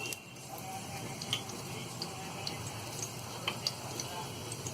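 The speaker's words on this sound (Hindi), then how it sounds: "जीरे को हम हल्का सा भून लेंगे" Cumin seeds frying in four spoons of hot ghee on a gas stove give a soft, steady sizzle with faint scattered crackles and ticks, heard close and quiet.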